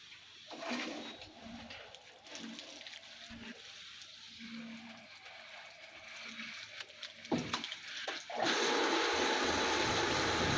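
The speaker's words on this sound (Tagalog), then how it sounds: "Hintayin po natin maging continuous yung flow ng tubig bago po natin i-start." Tap water rushes through an open faucet after a filter replacement in a residential line, a steady broadband hiss with sputtering bursts as trapped air clears, growing fuller and louder toward the end.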